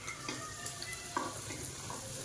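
Vadas, lentil fritters for dahi vada, frying in oil as they are turned, giving a steady close sizzle with small crackles and light stirring scrapes throughout.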